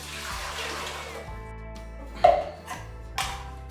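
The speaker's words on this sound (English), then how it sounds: "So you turn 1 cup of water right into your pot" One cup of water pours briefly into a pot for making fufu, followed by a couple of light metallic clinks in a quiet room.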